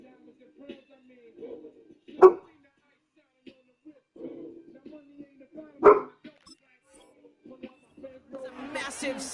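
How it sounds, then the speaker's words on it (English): A dog barks twice, sharp and fairly close, during a football video game session, with quiet talk and game sound around it. "My dog's saying whoa with me."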